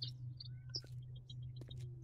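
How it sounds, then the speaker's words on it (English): Bird calls in the survival game 7 Days to Die: a few short, faint chirps scattered over a steady low hum, with no talk. "I thought I heard another bird."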